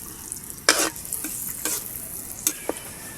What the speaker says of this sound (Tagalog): Gigisa na natin yung ating bawang.